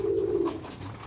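A Sialkoti Chuhe pigeon coos once, close and soft, a short low throaty call that trails off into quiet background rustle.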